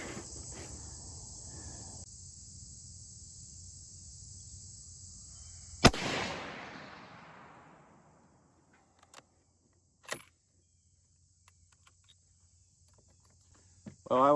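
A Savage 110 rifle in 6.5 Creedmoor fires one sharp, loud shot whose report rolls away over an outdoor range where insects trill steadily, followed by fainter distant knocks.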